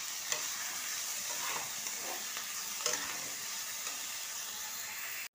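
Chow mein noodles, boiled in beet water, with vegetables, coriander leaves and tomato sauce, sizzle and fry in a pan while being stirred, a steady hiss broken by a few scraping stir strokes.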